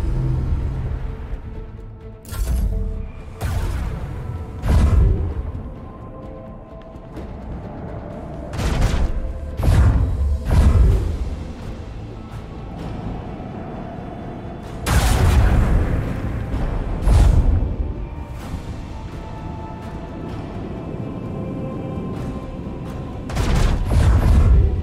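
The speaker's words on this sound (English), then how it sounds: "Plasma torpedoes." Plasma torpedoes launch repeatedly in Warhammer 40k: Rogue Trader, a string of loud booming blasts arriving in irregular bursts, some clustered closely, each decaying into a rumbling low tail.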